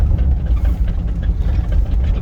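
A 1995 GMC Vandura 2500 van's engine idles in gear, a loud, steady low rumble with a slight uneven throb, heard close up.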